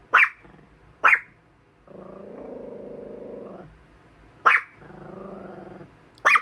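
Dog barks sharply four times at uneven intervals, with low, sustained growls rumbling in the gaps between barks, close and loud in a quiet house.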